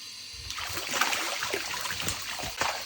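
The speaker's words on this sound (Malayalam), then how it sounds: "മോട്ടറിൽ വെള്ളം വരുന്നുണ്ടോ നോക്കാം" Water pours out from a pump motor beside a river, a continuous close splashing trickle with small gurgles and spatters throughout, no voices.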